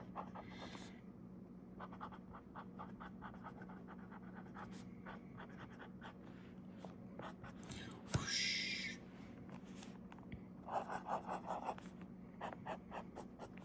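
A Sailor fountain pen with a medium nib writes on paper, soft close scratchy strokes in quick rhythmic runs at low volume, with faint breathy speech in places.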